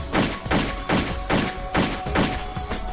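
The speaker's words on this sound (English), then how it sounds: "So the gunfire is a lot like the AK-47" Rapid Sturmgewehr 44 rifle fire in a video game, in short, evenly spaced bursts, loud and close, each shot cracking with a booming tail.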